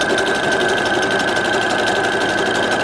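A sewing machine stitches a wig cap with a steady, loud, fast mechanical whir and rapid needle chatter, running continuously with no talking.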